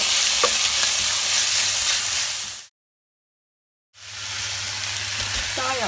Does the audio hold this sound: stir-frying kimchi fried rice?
yes